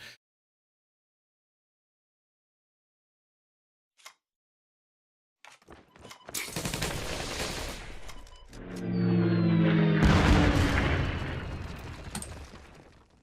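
A bomber strike in the card game Kards plays out as a sudden burst of blasts and a roaring, descending whine, building into a loud rumbling barrage after near silence.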